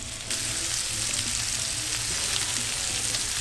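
Loud, constant sizzle of mahi-mahi frying in a non-nonstick pan, starting abruptly and crackling steadily up close with occasional soft stirring.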